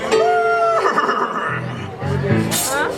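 A horse whinnies amid a live stage show, a mix of talk and music with a harmonic, wavering call rising near the end; the animal is Maximus, the Royal Guard horse character, at a Disneyland Tangled performance.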